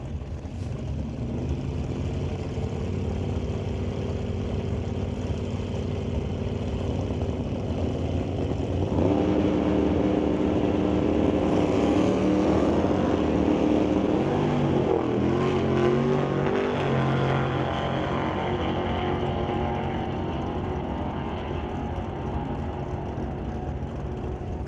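Drag race cars at an NHRA Summit ET Series finals event in Mission run down the track, a steady loud engine roar that swells and intensifies midway through before easing off, with no talking.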